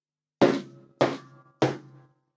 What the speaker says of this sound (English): And he only opened them when he heard three loud thuds.